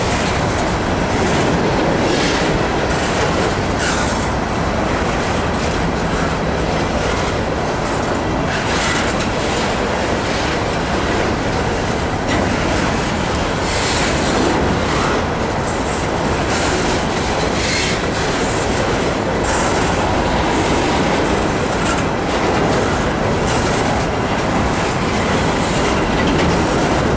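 A heavy freight train of empty rock cars rumbles past continuously at close range, wheels clacking rhythmically over the rails with occasional metallic squeals, loud and unbroken.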